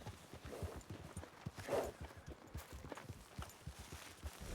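Horse hooves clip-clopping in a steady, close walking rhythm in Red Dead Redemption 2, soft and continuous with faint background ambience.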